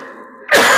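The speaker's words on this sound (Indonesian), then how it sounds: "Maaf Pak, ini batuk." A single sharp, close cough bursts out suddenly after a brief quiet hum, during a dawn lecture in a mosque.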